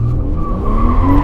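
Loud, close tire squeal from a car drifting on a track, a continuous skidding screech over engine roar with pitch sliding upward as the car slides.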